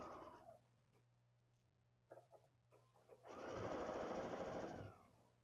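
A sewing machine stitching through pinned rows of quilted fabric for a giant bow runs in a short burst near the start. After a quieter pause with a few soft handling clicks it rumbles again, close and steady, for about two seconds.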